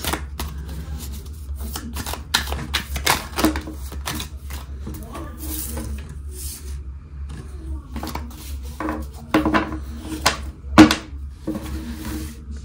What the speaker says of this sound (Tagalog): Balasahin muna po natin.